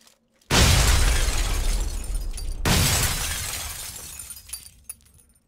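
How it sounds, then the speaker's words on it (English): Two loud, close grenade blasts in PUBG, each a sudden broadband burst with a long crackling, debris-like decay, the second following about two seconds after the first, with little else around them. "Grenade."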